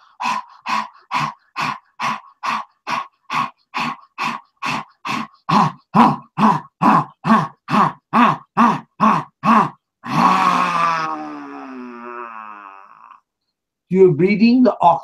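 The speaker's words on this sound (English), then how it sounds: "Keep your hands on your stomach and breathe out 30 times like this." Forceful yogic exhalations, about twenty-five sharp rhythmic breaths pushed out through the nose in steady succession, loud and close, then a longer sustained breath and brief talking at the end.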